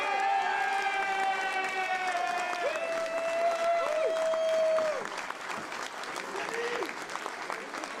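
A carnival crowd at Martelange claps warmly for several seconds during an enthronement ceremony, dense and steady, with sustained tonal voices or music ringing over it before the applause thins.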